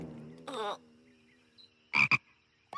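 A cartoon frog croaks in a few separate bursts, a low drawn-out note followed by sharper, raspier calls with quiet gaps between.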